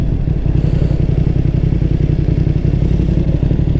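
A motorcycle engine idles and putters at low speed, close by and steady with a rapid rhythmic chug, as the bike pulls into a quiet picnic park in the Serra da Estrela.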